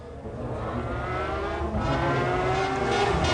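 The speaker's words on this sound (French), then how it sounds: "La voici, cette McLaren." A McLaren race car at the 1996 Le Mans 24 Hours passes with a loud, sustained engine roar whose pitch gradually climbs, steady and fairly close throughout.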